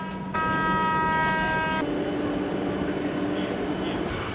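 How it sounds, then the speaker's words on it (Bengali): A Vande Bharat Express (Train 18) leaving the station sounds a sustained horn blast, then settles into a loud steady mechanical rumble as it pulls away, close by with no talking. "তো ট্রেন তো ছেড়ে দিল"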